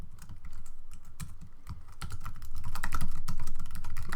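Rapid, continuous typing on a computer keyboard while writing Java code, with dense clicking keystrokes up close that grow slightly louder and busier toward the end, no voices present.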